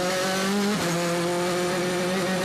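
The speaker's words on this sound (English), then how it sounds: "Sound of these cars absolutely awesome, these onboard shots, and the sound as well." A DTM touring race car engine at the 2012 Nürburgring round screams in steady onboard sound, its high revving pitch holding level with a brief dip and shift partway through, loud and close with no talk.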